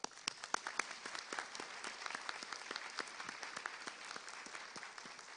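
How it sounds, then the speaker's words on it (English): An audience at a university honors program ceremony claps for the honorees, a moderately distant round of applause with distinct individual claps audible in an uneven patter. "let's take a moment just to give our honorees a round of applause"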